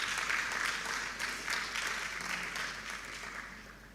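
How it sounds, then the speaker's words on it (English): An audience clapping for a panelist at a national communications conference, a moderate, fairly distant wash of applause that gradually fades. "Let's give her a hand clap."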